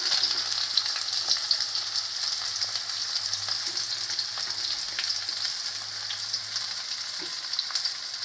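Black mustard seeds, onion, garlic, chili and ginger fry together in hot oil in a kadhai, giving a steady, close hiss with faint occasional spatters and no voices.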